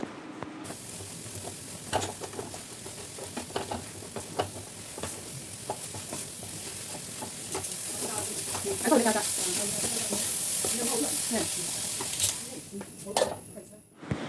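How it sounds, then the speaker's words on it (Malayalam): Beans tossed into a frying pan with onions give a close, crackling sizzle with repeated spatula scrapes, the frying swelling louder midway and easing off toward the end while a voice talks faintly. "അപ്പം ഇനി അതിലേക്ക് പയറിട്ട് കൊടുത്തിട്ട് നല്ലോണം ഇളക്കി കൊടുക്കാം"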